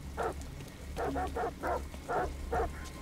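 In the video game Detroit: Become Human, a dog barks in six short, evenly spaced woofs at moderate distance, clear over a low ambient hum.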